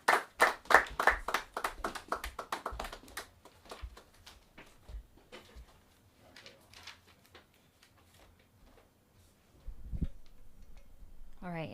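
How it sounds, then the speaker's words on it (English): A small open mic comedy crowd claps for a comedian, starting as a brisk burst of many hands, then thinning to scattered single claps while people talk. "Give her a round of applause."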